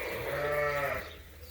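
A single sheep lets out one loud, close bleat that lasts about a second, then fades into quiet background, with no talking.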